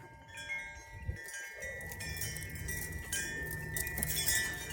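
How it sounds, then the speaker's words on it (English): Wind chimes hanging on a backyard grape arbor ring in bright, sustained metallic tones that overlap steadily throughout, with a low outdoor rumble underneath. "Sorry for the wind chimes. I've got wind chimes all over my"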